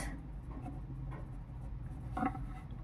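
A pen writing numbers by hand during a Class 6 maths lesson on decimals, giving soft scratchy strokes in short bursts with one firmer stroke near the end, close and quiet over room hum.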